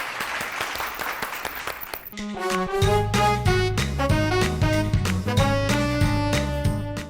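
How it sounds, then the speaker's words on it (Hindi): Studio audience applause on a Pakistani television talk show, a dense burst of clapping for about two seconds before upbeat music with a steady beat takes over. "तालियां"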